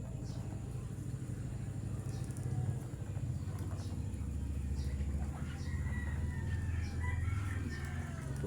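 Backyard chickens and roosters cluck and crow at a feeding, with one drawn-out rooster crow rising near the end over continuous clucking and a low rumble of background noise, moderately distant.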